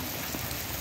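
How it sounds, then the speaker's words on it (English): Heavy rain pours down steadily outdoors in Idaho, a dense continuous hiss of drops hitting the ground and pooling water, loud and unbroken with no voices. "Is this more rain here than you ever seen?"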